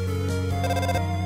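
A phone ringtone from the video game Undertale rings out as a short tonal, steady electronic ring with pulsing texture, clear and alone.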